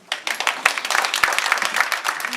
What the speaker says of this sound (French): il faut les applaudir